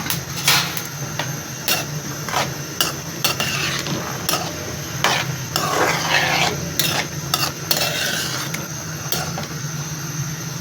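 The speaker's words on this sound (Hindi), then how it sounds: "अब इसमें मटर को फ्राई कर लेती हूँ हल्का सा।" Peas lightly frying in a little oil in a cooking pot, giving a steady soft sizzle with irregular stirring clinks and scrapes throughout, close up, no voices.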